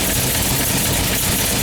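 A car engine idles loudly and steadily at close range, with a constant rumble and no pauses, from a vehicle with a fuel leak at the pump.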